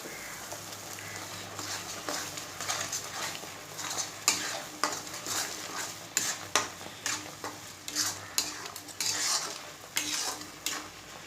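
Spices including garam masala powder fry in a pan of chicken curry while a spoon stirs and scrapes the pot, a close, low sizzle broken by repeated metallic scrapes and clinks.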